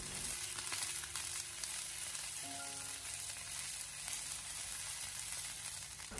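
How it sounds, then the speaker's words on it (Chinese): Eggplant pieces pan-frying slowly in oil over low heat, producing a soft, constant crackling sizzle from start to finish, with a brief metallic ring partway through as the pan is turned. "我们要经常的转动一下煎锅，让里面的茄子都可以均匀的受热和成熟"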